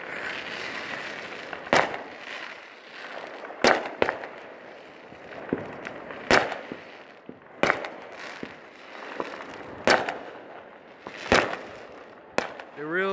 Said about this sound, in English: my neighbors just put up these awesome fireworks